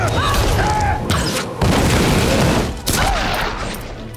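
Heavy gunfire in the Tomb Raider video game, rapid bursts and booming shots mixed with mechanical clatter and impacts, loud and close, with a couple of short pauses between volleys.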